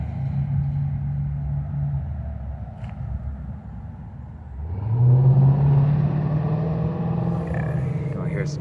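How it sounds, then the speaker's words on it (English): Steady low rumble of busy highway traffic in Savannah, Georgia, with a vehicle passing closer midway, its engine tone rising; continuous background drone throughout. "Some traffic noise. We're on a busy highway."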